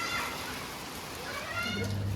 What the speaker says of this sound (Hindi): तेज तो है, मोटी बूंद तो है।